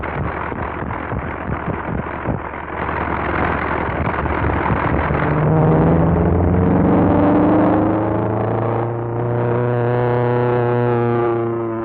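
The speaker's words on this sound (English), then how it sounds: "Sounds like he has engine trouble" A loud airplane engine with engine trouble roars over rushing, wind-like noise, its pitch wavering and climbing unevenly as if straining.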